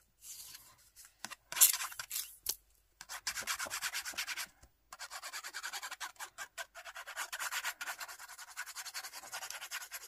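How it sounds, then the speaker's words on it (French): Paper bases are rubbed together by hand while being glued, giving close, dry brushing strokes in quick repeated bursts with a few short pauses. "Nous avons les deux bases. Je vais les coller ensemble."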